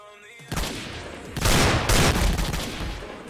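Gunfire from a firefight in Garry's Mod, several loud bursts of rapid shots cracking close by in quick succession with brief gaps between them.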